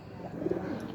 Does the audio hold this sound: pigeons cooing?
yes